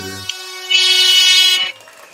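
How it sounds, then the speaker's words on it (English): A loud, sustained air horn blast of about a second, harmonically rich and blaring, followed by quieter background noise. "Oh, I hate that air horn so bad."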